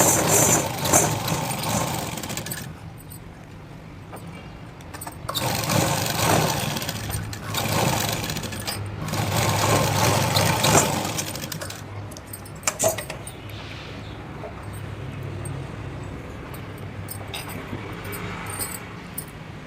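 A tailor's sewing machine stitches four pieces of a Punjabi dress top and pant together into a hip belt, running in several whirring bursts with short pauses between them.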